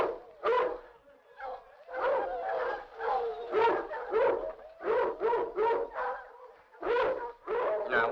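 Several dogs bark in rapid, repeated bursts, loud and close, with short pauses between volleys, in an ancient Roman-era period film setting.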